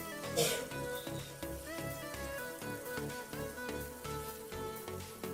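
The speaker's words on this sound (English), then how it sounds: "So you just stir a bit." Already-cooked food sizzles gently in a pot while a spoon stirs it, soft scraping and bubbling over faint background music.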